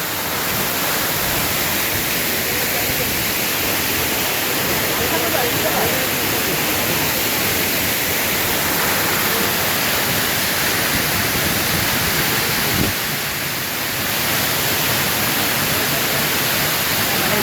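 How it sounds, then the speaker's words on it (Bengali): Huge Khoiyachora waterfall roaring up close, a dense constant rush of falling water filling the whole stretch without break, with a voice speaking faintly beneath it. "huge Jharna, O my goodness, huge false, waterfalls"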